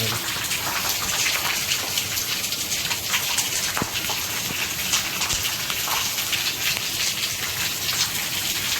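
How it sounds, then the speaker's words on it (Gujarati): Heavy rain pours down steadily in Junagadh during a storm, a dense loud hiss of drops hitting surfaces with occasional heavier splashes, no voices. "વરસાદ ચાલુ થઈ ગયા"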